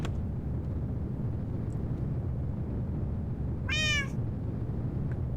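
A single cartoonish cat meow, Garfield-style, pops up briefly over a steady low rumble of rocket engine noise from a Kerbal Space Program launch, with no one talking during the sound.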